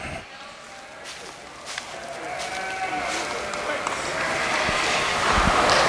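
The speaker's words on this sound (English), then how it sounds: "He's just a nice sheep." Sheep, including rams, bleat against the open, noisy background of a sheep show, with someone speaking over the animals throughout.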